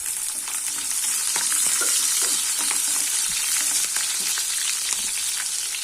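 Small shallots frying in hot oil with whole spices for a cauliflower pulao, a loud, continuous crackling sizzle with scattered pops and stirring scrapes throughout, no voices.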